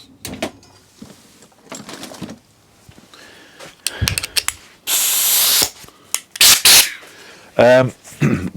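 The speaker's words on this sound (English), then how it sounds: "so I'll get the compressor" An air compressor blows bursts of air into a tubeless mountain bike tire, giving loud hissing rushes between clicks and rattles of the valve and rim, with someone talking in between.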